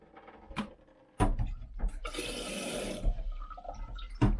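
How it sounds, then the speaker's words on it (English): A kettle is filled from a kitchen tap while home-cooking pasta and sauce: a few brief knocks and clatters, then a steady rush of running water for about a second, followed by quieter handling noises. "I'm going to fill up the kettle"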